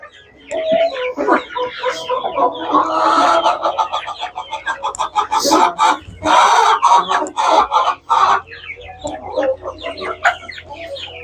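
Hens and young chicks on a chicken ranch cluck busily as they peck at feed pellets, a close, lively run of overlapping clucks and short calls with no talking.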